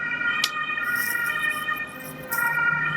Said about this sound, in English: I hope that police car's not going to drive past.